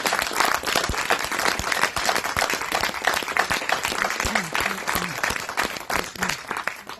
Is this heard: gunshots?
no